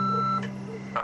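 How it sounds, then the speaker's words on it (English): A single steady answering-machine beep sounds clearly at the start, a sustained electronic tone lasting under half a second, followed by a brief quieter noise and room hush. "Please leave us a message at the beep."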